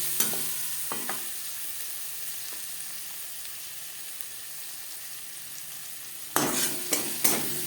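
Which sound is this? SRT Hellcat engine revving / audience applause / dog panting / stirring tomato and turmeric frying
stirring tomato and turmeric frying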